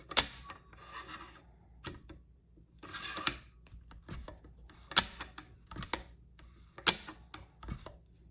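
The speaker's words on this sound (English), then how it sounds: "I'm gonna pull this out. So we can actuate the bolt." Bolt of an Elf Owl rifle with a Howl Mini action chambered in 300 Blackout is worked, a series of sharp metallic clicks and sliding rasps spaced apart, close up with no talk.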